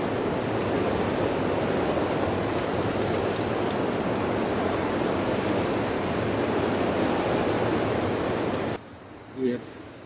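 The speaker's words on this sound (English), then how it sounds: "Wind has picked up a lot." Strong, steady wind roars across the microphone at a river in a continuous broadband rush, then drops away abruptly near the end, leaving a brief quiet thump.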